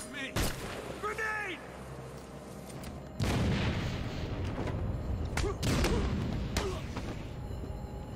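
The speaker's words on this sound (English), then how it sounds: "Grenade!" Grenade explosions in Batman: Arkham City, heavy booming blasts at about three and five and a half seconds over rumbling game noise, with a character's voice early on.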